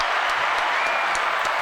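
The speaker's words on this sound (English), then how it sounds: "Let's get you a nice round of applause." A round of applause from a crowd at a live-streamed youth gathering, steady dense clapping held at an even level for a short stretch.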